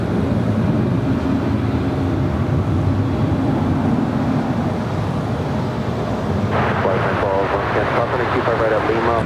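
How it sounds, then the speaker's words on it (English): Volaris Airbus A320neo airliner arriving at LAX from Guadalajara, its engine roar a steady, moderately loud rumble, with a voice talking over it toward the end. "As Volaris Flight 912 coming in from Guadalajara at A320 Neo"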